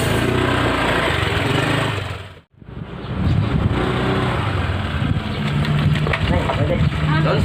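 A motorbike engine runs close by in a steady, buzzing drone that cuts out briefly before resuming, with people talking over it.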